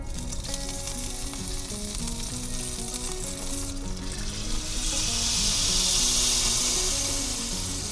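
Ponzu sauce hits a hot pan after the fish is cooked, setting off a loud, steady sizzle whose hissing swells partway through, with soft background music underneath.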